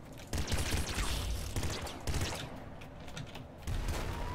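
In the video game Nuclear Throne, weapon fire comes in several loud, dense bursts with short gaps between them, each a noisy crackling blast.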